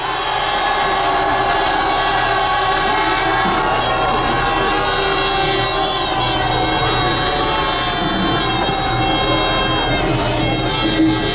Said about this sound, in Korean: 윤석열 퇴진 열기를 모아 함성 외쳐보겠습니다